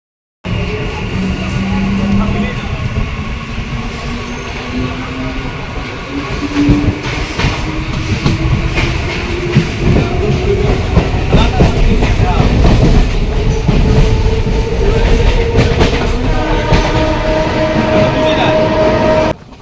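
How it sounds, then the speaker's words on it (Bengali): A local train running toward Sealdah station, heard from on board: continuous loud rumbling and rattling of the wheels on the rails, with a long rising whine from the motors throughout. "তো এই ট্রেনটা ধরে এখন যাব হচ্ছে শিয়ালদার দিকে।"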